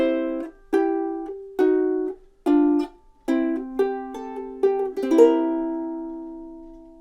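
Blues ukulele turnaround played as an ending: a run of separate plucked notes and double stops in a steady rhythm, building to a strummed final chord that rings out and decays, close and clear with no voices.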